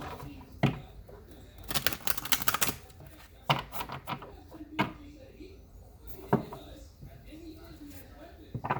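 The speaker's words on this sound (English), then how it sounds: "One more shuffle." Crisp flicking and riffling of tarot cards being shuffled close by, a quick burst of rapid snaps followed by scattered taps, with faint talking in the background.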